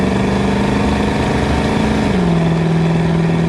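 A 1984 Chevrolet Blazer with a 350 V8 and 700R4 automatic transmission drones steadily from inside the cab while driving, then its pitch drops suddenly partway through as the transmission kicks down, with the engine staying loud and continuous.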